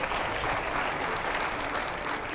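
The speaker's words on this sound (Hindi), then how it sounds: "जरा जोरदार तालियां बजाइएगा इसको लेकर" Dense, steady applause from a large audience at a live event, even and sustained throughout the short stretch with no voices standing out.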